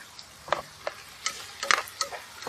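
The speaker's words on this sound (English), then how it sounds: "So we're going to brown it with the peppers. Peppers and the onion." Rice browns in a pan with peppers and onion, giving soft sizzling and light scraping stirs with a few sharp clicks, close up and fairly quiet.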